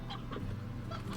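Soft, quick clucks from a rooster in the video game Slime Rancher, a few faint calls over a steady low background hum, no talking.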